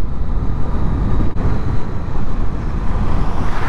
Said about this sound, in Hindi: इतनी तिखी हवा है भाई इतनी तिखी